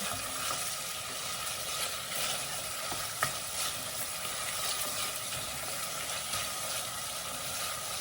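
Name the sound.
stirring hot spicy Thai green curry in a pan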